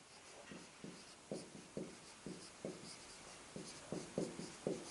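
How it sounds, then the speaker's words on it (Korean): Chalk or marker strokes on a board during a physics lesson on mechanics, a series of short scratchy taps in an irregular rhythm, faint and close, with no voices. "그러면 내가 이렇게 한번 써볼게요"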